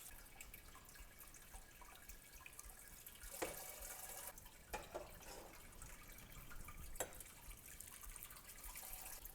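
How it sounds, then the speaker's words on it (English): Sparge water is poured through mashed grains while brewing a one-gallon all-grain beer, giving a faint, steady trickle and splash with a few louder drips along the way, and no talking. "I'm going to just pour my sparge water through the grains"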